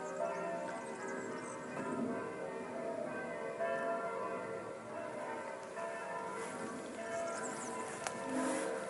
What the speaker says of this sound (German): Und wie schön, in Hessigheim läutet's.